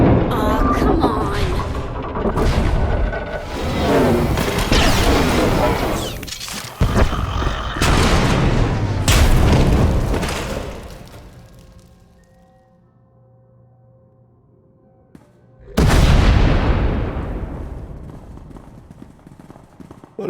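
Heavy rumbling blasts and crashing debris echo through a collapsing tunnel in a Star Wars: The Old Republic cutscene, with loud bursts, a quieter lull in the middle, then another powerful explosion near the end.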